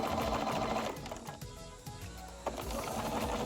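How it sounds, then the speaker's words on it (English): A sewing machine stitches down a fabric pocket with a steady, close, rapid whirring that runs nearly the whole time and eases briefly in the middle, with no talking. "we're going to stitch all the way down to the bottom corner, just taking out your pins as you go"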